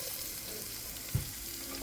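Garlic for pork sisig fries in a pan with a steady, even sizzle and a single soft knock of a utensil partway through, heard close up without talk.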